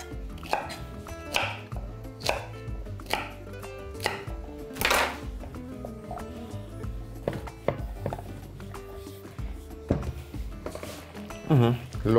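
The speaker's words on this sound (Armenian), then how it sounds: "ընդամենը երկարությամբ կտրում ենք և կտրատում ենք խորանարդիկների" A knife chops celery stalks into small cubes on a board, a run of sharp, fairly close taps in uneven bursts with a voice talking over the cutting.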